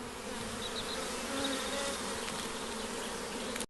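Honeybees in a nuc hive on 20 June, a steady dense buzzing drone that stays level throughout, close and moderately quiet, no voices.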